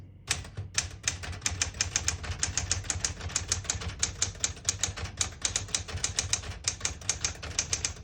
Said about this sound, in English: Beautiful typing machine